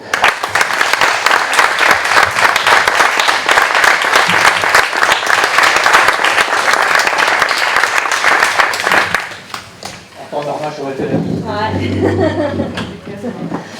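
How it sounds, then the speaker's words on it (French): Audience applause at the installation of a new municipal council, loud sustained clapping for about nine seconds that fades out, followed by a person speaking. "Et on peut l'applaudir."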